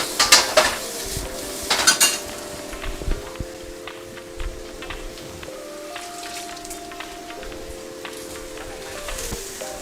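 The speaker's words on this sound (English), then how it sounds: "I'm going to add my onions to the wok" Utensils clink and scrape against a wok as onions go in, with sharp metallic knocks early on and a sustained ringing tone afterward, over a faint background; no one speaks.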